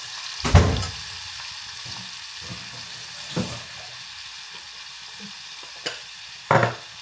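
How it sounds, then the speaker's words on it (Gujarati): Tomatoes frying in hot oil for a spiced aubergine dish: a low background sizzle with a few sharp stirring clinks and scrapes spaced out over several seconds. "ત્યાં તેલ ગરમ થઈ ગયું છે. તમે ડાયરેક્ટ ટમેટાં નાખી દીધા તેમાં."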